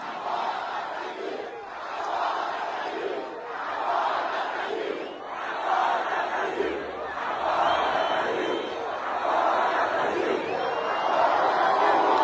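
Large crowd following the march led by a federal deputy as it reaches the Federal District in the late afternoon, with a steady roar of chanting and shouting voices that rises and falls in waves.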